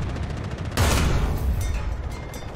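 A British tank's main gun fires in War Thunder, a single sudden heavy boom that rolls off into a rumbling decay over steady background noise.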